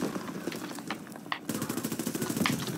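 Rapid automatic gunfire from a Call of Duty WW2 Zombies match, near and loud, with a steady stream of bursts that grows denser in the second half.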